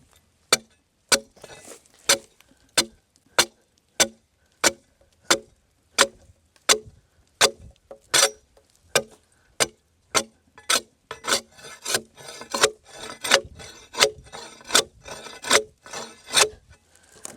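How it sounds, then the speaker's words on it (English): Bark is scraped off a green oak log with a tool in sharp, regular rasping strokes, about one per second, that grow quicker and more ragged near the end. "I'm going to see how easy it is to scrape"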